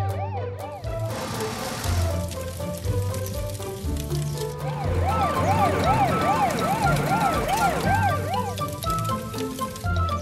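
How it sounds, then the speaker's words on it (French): Cartoon fire truck siren wailing in a steady rising-and-falling pattern, loud and continuous over background cartoon music, growing stronger in the second half. "Le camion de pompiers allume ses feux de détresse et ses sirènes."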